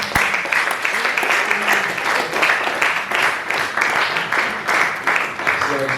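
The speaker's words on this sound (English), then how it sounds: "And the final applause goes to Dr. Priscilla." Applause from a lecture audience at an inter-faculty lecture on road perceptions, a dense, steady patter of many hands lasting throughout, fairly loud and close, with faint voices mixed in.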